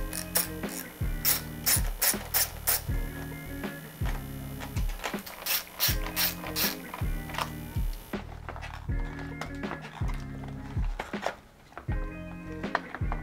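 A ratchet wrench backs out two 10mm bolts on a Honda CRF450RL dash panel, giving loud, close, rapid ratcheting clicks in repeated rhythmic bursts with short pauses between strokes and no voices.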